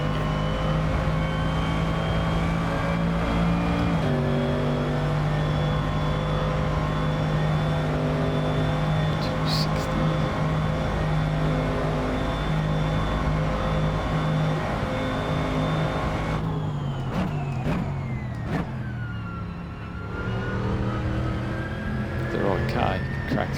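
A racing car engine drones steadily on the Deutschlandring track in a racing video game, holding a sustained note through a fast corner before a brief lift and renewed acceleration near the end, with someone talking over it.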